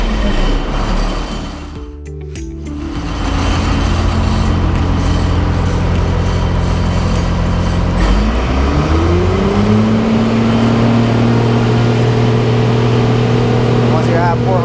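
A Hobart 90CU24 ground power unit's engine cranks briefly, catches, and rises in pitch before settling into a loud, steady, close drone with a strong hum.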